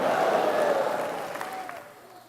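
Church congregation applauding at a Spanish-language evangelical service, a steady broad wash of clapping with some crowd noise that fades toward the end.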